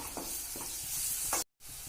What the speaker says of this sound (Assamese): এতিয়া প্ৰথমতে আমি কেৰাহীখনত তেল গৰম কৰি পিয়াজখিনি ভাজি ল'ম।